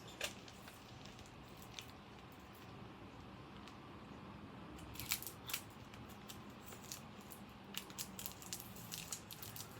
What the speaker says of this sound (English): get some scissors.